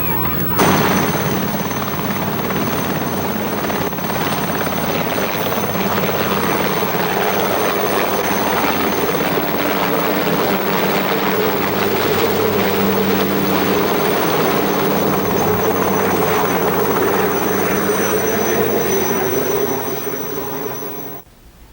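A helicopter or similar aircraft runs close by near a school in Grand Rapids, 1980, giving a loud, steady engine and rotor drone that holds for about twenty seconds before cutting off.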